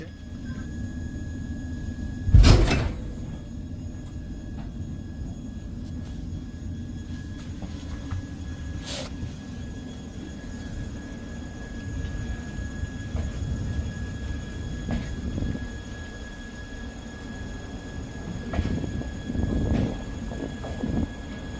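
A train rumbles steadily at Bolpur station at night, a low continuous rolling drone with a sharp knock early on and faint clanks later.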